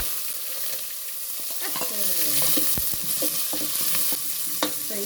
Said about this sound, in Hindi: और अब इसमें डाल दूँगी प्याज।